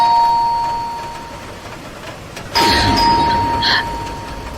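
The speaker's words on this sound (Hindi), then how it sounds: "तभी अचानक से दरवाजे की घंटी ने" A doorbell rings at a room door near midnight, giving a sharp two-tone chime that sounds out clearly over a steady background hum.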